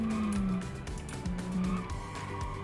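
Jeep Wrangler driven hard on a road, its engine pitch climbing then dropping in repeated surges as it accelerates, with tyre noise and steady road roar close and loud throughout.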